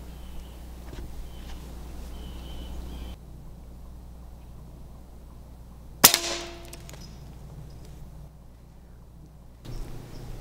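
A Benjamin 357 Bulldog air rifle fires a single sharp, loud crack outdoors, followed by a brief decay into quiet background ambience.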